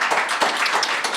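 A brief burst of clapping from a small audience for a blues musician, quick uneven claps lasting about a second.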